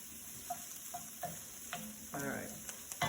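Onions cooking gently in a pan for scrambled tofu, kept from browning: a soft steady sizzle with a few light stirring scrapes and clicks, fairly quiet with no talking.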